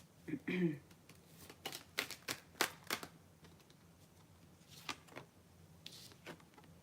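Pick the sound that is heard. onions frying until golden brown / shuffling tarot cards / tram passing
shuffling tarot cards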